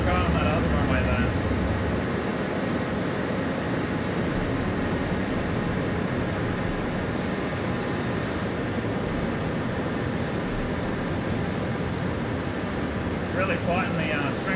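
A BAe T1 jet trainer in Microsoft Flight Simulator gives off a constant broadband roar and whine, loud and unchanging from start to finish, heard alone with no talk.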